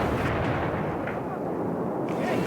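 A heavy explosion blast rumbles continuously with a dense, roaring low end, loud and sustained throughout with no clear single onset.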